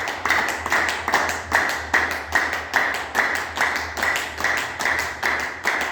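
A group in a yoga class claps loudly and steadily in an even rhythm. About fourteen sharp, strong claps fill roughly six seconds with no talk.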